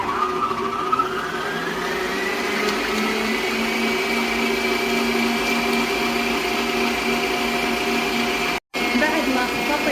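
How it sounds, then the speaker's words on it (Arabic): An electric mixer whisks room-temperature eggs at high speed for an orange cake, a loud, continuous motor whine whose pitch rises slightly early on, running steadily with a momentary cut near the end. "طبعا البيض راح اخفقه على سرعة."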